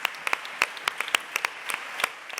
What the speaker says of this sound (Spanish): Hoy despedimos a Anita con un aplauso después de 30 años.